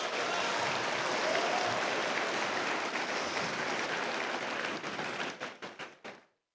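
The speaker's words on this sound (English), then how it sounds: "Let's give Qualcomm a big round of applause as a thank you." A crowd at a robotics district competition applauds a sponsor, a thick wash of clapping that holds steady, then breaks into a few last scattered claps before stopping.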